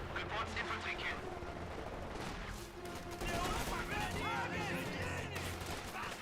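MG42 machine gun fire in Company of Heroes 2 battle, dense crackling bursts blended with other combat noise and game effects, loud and continuous, with a commentator's voice talking over it.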